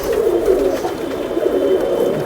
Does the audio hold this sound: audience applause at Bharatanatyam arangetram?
no